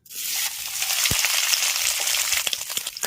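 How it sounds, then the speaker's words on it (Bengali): Soaked, squeezed-out soybean chunks fry in a hot pan, giving a loud, steady sizzle with scattered clicks and scrapes from stirring, and no voices. "এবার আমি সোয়াবিন আর আলুটাকেও ভেজে নেব"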